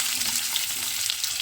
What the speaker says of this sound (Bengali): এবারে আমরা ওলকপিটা ছেড়ে দিচ্ছি।